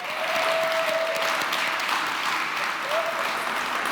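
Sustained audience applause at a comedy magic show, a dense wash of clapping filling the room, with a brief voice rising above it.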